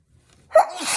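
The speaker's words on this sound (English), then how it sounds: "I'm gonna sneeze." A single loud, close sneeze bursts out after a quiet moment, a sharp onset followed by a breathy, noisy tail, heard alone during a papercraft session making a folio.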